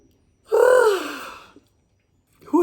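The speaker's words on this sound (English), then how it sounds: "Breathing in." A single deep, audible inhalation through the mouth, close and fairly loud, lasting about a second before trailing off, then a brief start of another breath at the end; no talking.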